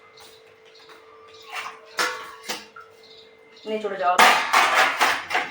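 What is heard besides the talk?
rinsing dirty pots and utensils with water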